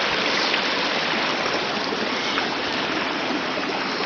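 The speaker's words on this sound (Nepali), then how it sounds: "ओ के आवाज हो त्यो क्या आवाज हो यो खोला" River below Dhungin Lamatar waterfall near Kathmandu rushes in a steady, loud, broadband roar that fills the scene evenly from start to end, close by, with no voices.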